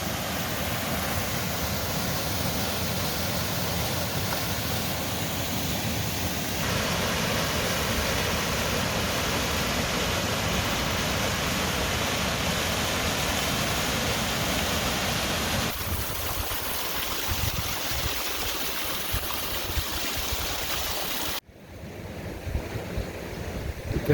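Rushing water at a mountain stream crossing on Mount Hood's Timberline Trail, a loud continuous broadband roar close to the microphone, steady throughout with wind buffeting and a sudden dropout near the end.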